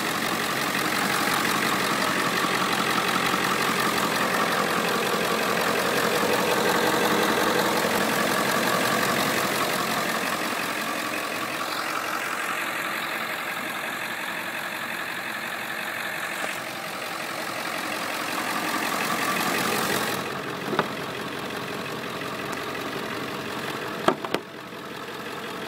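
Ford 7.3 Power Stroke turbo diesel idling in a 1998 Ford E-Series Super-Duty school bus, a steady rumbling clatter up close with a brief higher whine partway through and a few knocks near the end.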